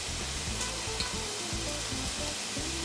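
Food sautés in a hot pan with red pepper flakes, a steady close hiss of sizzling frying broken by soft stirring scrapes and rattles, with no talking.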